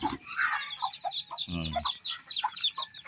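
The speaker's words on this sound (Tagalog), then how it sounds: "yung ating sisiw, nag-iiyakan rito. Dahil gutom na sila." Hungry chicks peep and cry continuously in a busy, high-pitched chorus of short rising calls, with one brief lower clucking burst from an adult chicken midway.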